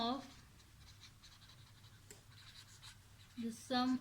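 Pen scratching on paper as a maths teacher writes out a working step on regular polygon exterior angles, soft and continuous, with a voice speaking briefly at the start and end.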